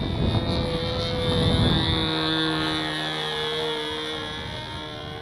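A Sig Smith Miniplane model airplane's engine drones loudly at an outdoor model flying field in California as it rolls down the runway, then settles into a steady, high buzz that slowly fades as it pulls away.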